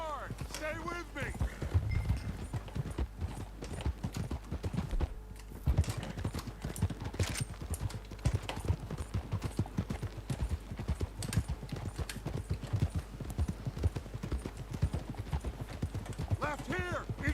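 Horses gallop hard in Red Dead Redemption 2, with steady, rapid clip-clop hoofbeats running the whole way through and an occasional whinny. Voices talk over the riding.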